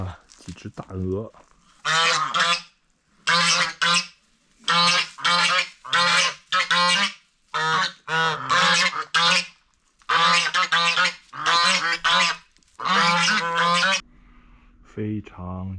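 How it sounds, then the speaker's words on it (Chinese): Geese kept in a traditional Chinese village with Ming and Qing era houses, loud repeated honking in rapid bursts close by, about a dozen calls, with a short low rumble at the end. "养了几只大鹅"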